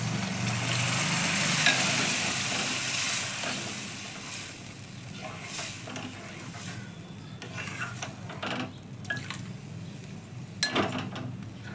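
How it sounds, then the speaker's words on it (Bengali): Dal being poured into oil-separated, fried spice paste in a pan for dal makhani, giving a burst of sizzling and frying at first that settles into quieter bubbling with occasional utensil clinks and stirring. "এবার আমি ডালটাকে ঢেলে দিচ্ছি।"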